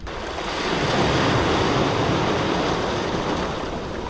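Waves wash steadily onto a rainy Scottish beach, a broad continuous rushing surf with wind noise, fairly loud and close, no voices.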